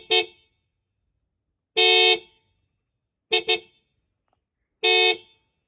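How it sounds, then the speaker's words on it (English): Stock factory horns on a Toyota Hilux honk four times, loud and close: three single blasts and one quick double toot, with silence between them. "So that's your stock horns of the Toyota Hilux that come from the factory."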